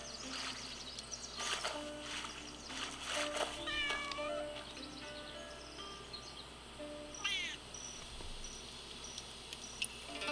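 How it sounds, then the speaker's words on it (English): Two short, clear meows from a cat in the game Where Winds Meet, the second brighter, set against constant crickets and quiet wilderness ambience. "At least I found a kitty."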